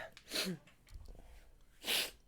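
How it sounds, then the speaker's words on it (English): Two sneezes, one early and one near the end, sharp bursts of breath close to the mic, with a soft sniff between them. "Oh, I super sneezed."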